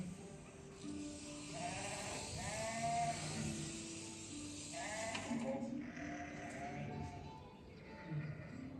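Sheep bleat on the Dingle peninsula in Ireland, a series of wavering calls from several animals, some near and some farther off, over a soft outdoor background while a voice speaks in places.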